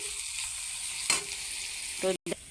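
Onion and garlic fry in a pan with a steady close sizzle, broken by a brief scrape and a couple of short clattering knocks near the end.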